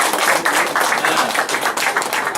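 Workshop participants applaud a newly named team leader, a brief burst of dense clapping from a room full of people that stays loud and even for a couple of seconds.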